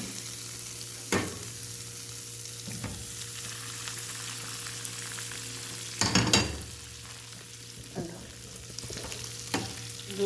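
Shrimp sizzling in a pan with garlic, a steady frying hiss with a few louder bursts of stirring and scraping, close and continuous with no voices.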